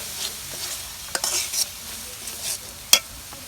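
Coriander powder and chili spices are stirred in a cooking pot over the heat, with a soft sizzle under scattered close scrapes and knocks of the spoon against the pot.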